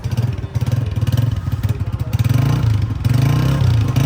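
A new 2025 Honda CG 125 motorcycle engine revs up close, a throbbing, pulsing mid-pitched exhaust beat that rises and falls through repeated throttle blips, loud and alone.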